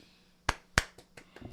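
Two sharp hand claps close together, followed by a few softer taps, close and quiet in a small room.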